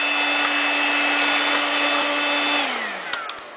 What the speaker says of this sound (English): I can see it disappearing as I vacuum